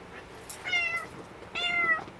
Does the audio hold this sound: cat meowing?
yes